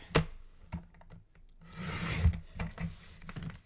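Wood pieces for reverse canvas wall art are cut by hand, giving short scraping and rasping strokes with a few knocks, close and fairly quiet with no talking.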